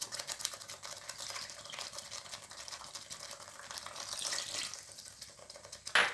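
Water poured from a cup into egg kurma simmering in a pot with ground masala paste, a steady splashing wash close by that stays even throughout, with a clatter near the end.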